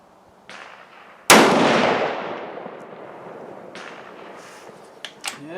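A single loud rifle shot fired at a target from a shooting bench outdoors, with a sharp crack and a long decaying echo rolling away, followed by faint clicks and handling noises.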